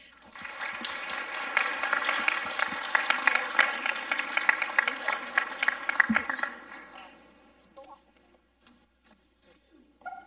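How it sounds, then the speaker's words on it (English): Audience applause after a panel at a conference event, loud sustained clapping for about seven seconds that then fades, with light room noise and a brief voice near the end. "Another round of applause, if we could, for our final panel of folks here."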